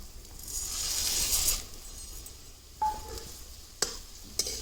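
A spoon stirs boondi into a thick vegetable curry (boondi sabji) in a pan, with a soft sizzle early on and a few sharp clinks of the utensil against the metal later, close and alone.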